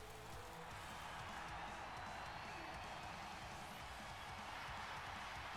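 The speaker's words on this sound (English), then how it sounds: "The crowd is ecstatic for Becky Lynch here tonight" A virtual wrestling arena crowd in WWE 2K19 roars for Becky Lynch at a Backlash pay-per-view event: a dense, unbroken wash of cheering noise that holds at an even level throughout.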